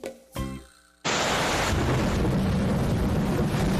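A short tonal sound fades out, then heavy rain roars in abruptly with blustery wind, a steady loud wash of storm noise.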